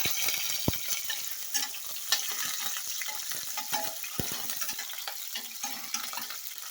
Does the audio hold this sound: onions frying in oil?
yes